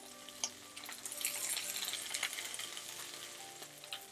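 Seafood scallion pancake frying in a pan, a continuous crackling sizzle with dense popping spatters and a few sharper ticks, close and fairly lively, no voices.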